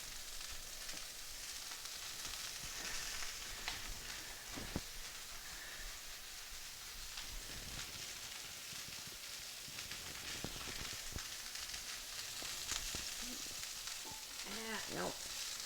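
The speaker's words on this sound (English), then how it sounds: "We're going to sear it on the other side." A pork chop sears in a cast iron pan, a steady crackling sizzle of frying fat with scattered pops, heard up close at low level.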